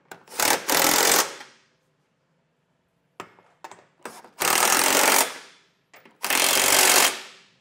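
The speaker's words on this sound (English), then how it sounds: "we'll go ahead and get these tightened down with that 15 millimeter socket." An impact wrench with a 15 mm socket tightens trailer hitch receiver bolts on a 2022 Chevrolet Traverse, firing in three loud rattling bursts separated by pauses and small clanks.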